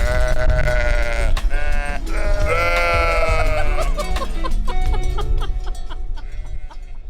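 Wavering sheep bleats rise over steady background music, a few loud calls early on before the music carries on alone.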